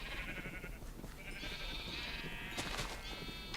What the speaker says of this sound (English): Breeding sheep and getting all kinds of wool.